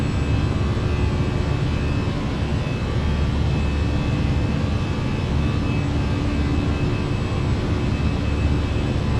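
Airbus A319 jet engines in a flight simulator, held at climb thrust as a steady, loud, continuous roar with a faint tonal whine running through it the whole time, no voices over it.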